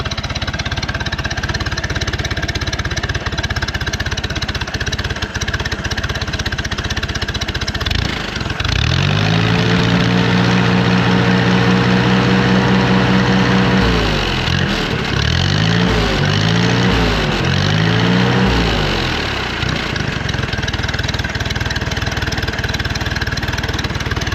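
A small engine on a mystery power unit idles steadily and close by, running slightly rich, with a smooth even drone that rises and wavers in pitch partway through before settling back to a low idle.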